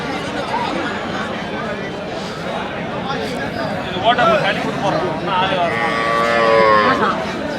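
Bulls and cattle lowing at a crowded livestock market in Krishnagiri district, with a loud moo rising near the end over background crowd chatter and someone talking throughout.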